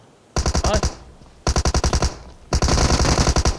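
Automatic gunfire in a competitive scrim of a shooter video game, with three loud, close bursts of rapid rhythmic shots separated by short pauses, the last burst the longest.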